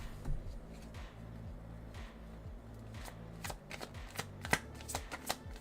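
A deck of tarot cards being shuffled by hand, soft repeated riffling bursts and flicks in a steady rhythm, close and quiet with no voices.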